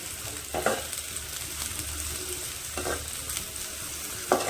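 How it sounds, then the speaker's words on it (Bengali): Onions stir-fried in a pan until light brown give a steady close sizzle, broken by a few scraping stirs of a spatula, with no voices. "পেঁয়াজটা দিয়ে ভালো করে নেড়ে চেড়ে হালকা ব্রাউন কালার করে নেব।"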